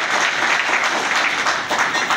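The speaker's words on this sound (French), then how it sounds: "Sous vos acclamations, s'il vous plaît." A crowd claps steadily and fairly loudly at the official installation ceremony of the High Council of Malians in Gabon, a short burst of continuous applause with no talk over it.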